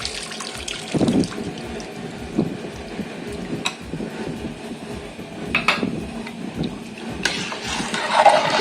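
About seven litres of water splash and run into a large biryani pot in uneven bursts, with clanks and small knocks of cookware, close by with no talking.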